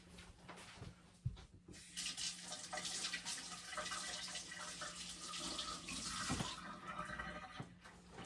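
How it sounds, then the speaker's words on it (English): Running tap water splashes steadily into a sink for several seconds as hands are washed, with brief clatters and handling noises near the start. "I'm going to wash my hands."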